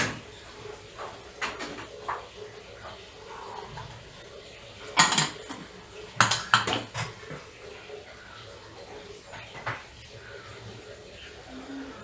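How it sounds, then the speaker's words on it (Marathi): A dosa griddle (tava) is set on the stove and handled while paneer chilla is being made, giving a few sharp metallic clanks and scrapes, quiet against steady kitchen background noise. "असा मी डोश्याचा तवा ठेवलेला आहे"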